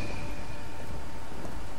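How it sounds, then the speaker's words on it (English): Steady rain in the Blues and Bullets video game, a dense, even hiss of falling water close around the listener, continuous for the whole stretch with no voices. "I'm walking in the rain."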